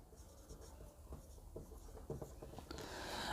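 Chalk or marker writing on a board during a Hindi-language math lesson on number series: quiet scratchy strokes and taps over a low room hum, faint and close, with no talking.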